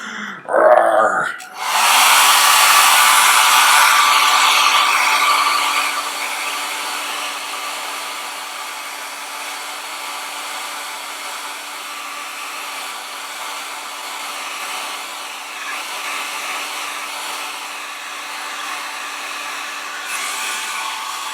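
A hair dryer blows on wet paint to dry it, starting with a couple of short handling noises, then a loud continuous whooshing roar with a steady whine that runs for twenty seconds, no voices.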